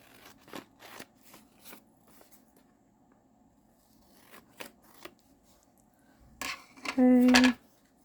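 Paper scraps for a craft being trimmed with scissors in quick, soft snips and rustles, followed by a louder burst of handling noise near the end, with no voices.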